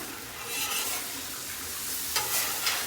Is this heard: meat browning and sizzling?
yes